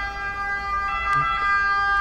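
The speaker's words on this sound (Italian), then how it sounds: "Adesso sta passando un'ambulanza" An ambulance siren passes on a street in Monza, its steady wailing tones fairly loud and sustained against a background hum of traffic.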